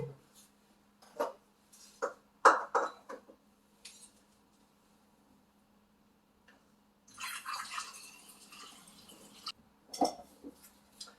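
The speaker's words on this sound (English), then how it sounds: "So I'm just going to funnel that in." Swedish glögg is poured through a funnel into a bottle. Scattered clinks and glassy taps come first, then a few seconds of soft gurgling pour and a last faint clink, all close by and quiet.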